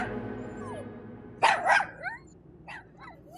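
A dog in a house gives a couple of close, sharp barks, then quieter yips, over a faint background hum.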